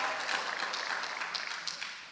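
Audience applause at a church festival honouring parents, a steady, dense wash of clapping from a crowd, moderately distant and even throughout, with no voices standing out.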